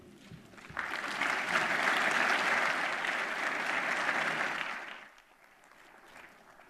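An audience applauds a keynote speaker at the ABC 2014 event, a sustained wash of clapping that builds quickly, holds steady for about four seconds and then drops away, with a brief quieter patch at the end.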